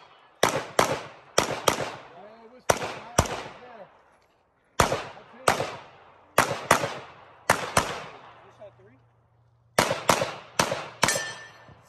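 Sharp, loud gunshots at a practical shooting speed stage, fired in quick pairs and small bursts with short gaps, each crack ringing out briefly, close to the listener.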